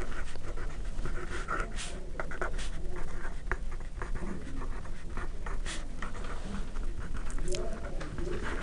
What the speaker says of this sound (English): I just write this one down